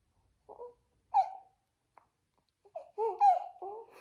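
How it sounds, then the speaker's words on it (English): Short bursts of baby babbling and cooing, close by and fairly soft, coming in a few separate vocal bursts with pauses between. "Little baby sounds."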